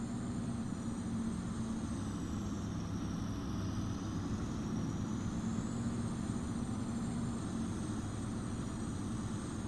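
Tractor engines in Farming Simulator 25 drone steadily for the whole stretch, a constant low mechanical rumble with a faint high whine on top and no talking.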